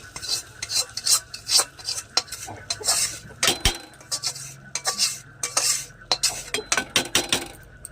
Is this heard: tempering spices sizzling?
yes